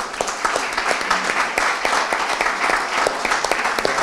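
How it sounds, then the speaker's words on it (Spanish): Steady applause from a crowd, many hands clapping continuously at an even level throughout. "pues os aplaudo yo"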